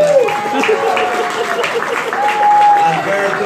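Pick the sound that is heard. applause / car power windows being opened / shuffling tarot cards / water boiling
applause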